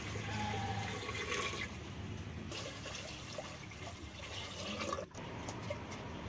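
Water pours into soaked fresh rajma in a pressure cooker on a mud stove, a continuous splashing, gurgling fill that runs steadily, then briefly breaks before resuming.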